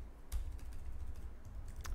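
Quiet typing on a computer keyboard: a few soft, scattered keystroke clicks, close and faint, with no talking.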